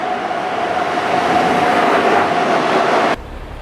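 A loud, steady rumble of a train rolling past a railway line beside a metro station in suburban Shanghai, with a faint whine running through it, cutting off abruptly at the end.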